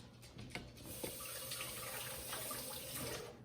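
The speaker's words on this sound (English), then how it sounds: "Next, we're going to take our zucchini and we're going to wash it off." Tap water runs steadily into a kitchen sink while a zucchini is rinsed for zucchini bread, a continuous close splashing hiss with small bumps of water hitting the vegetable.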